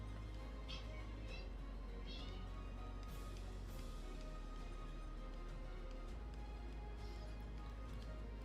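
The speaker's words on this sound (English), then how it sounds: "This cat that you keep hearing meowing wants to go in the bedroom to go to bed" A house cat meows at a closed bedroom door, giving a few faint, separate cries over a steady low hum.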